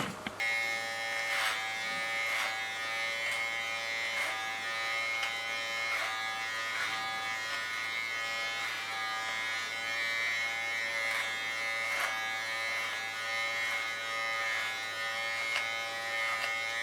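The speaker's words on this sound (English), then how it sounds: "Got to clean this part and do this with a clipper." Electric hair clipper cutting short hair during a salon cut down to a platinum crop, a steady close buzzing hum with a few brief changes in pitch as the blades move over the head, no voices.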